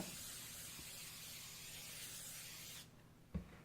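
Cooking spray hisses in one steady burst for nearly three seconds as it coats a 9 by 13 baking pan, close and soft, followed by a short clunk.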